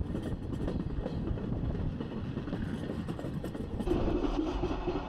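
A vintage train runs on the Douro line in Portugal, between Porto and Pocinho, with a steady rumbling roll and faint rail clatter that continues without a break. A slightly louder stretch comes near the end. No one speaks.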